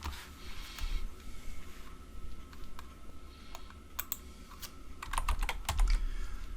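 Program code being typed on a computer keyboard, a close run of soft, irregular key clicks that grows busier and louder toward the end, with no talking.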